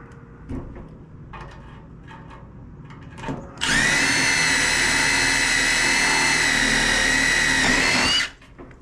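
A power drill whirs steadily for about four and a half seconds, loud and close, drilling a hole near a car hood hinge screw after some quieter clunks and handling noises, then spins down.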